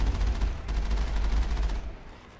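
Sniper rifle fire in the Mass Effect video game: dense, loud, continuous bursts of gunfire and blast noise for about two seconds, fading out near the end, with no voices.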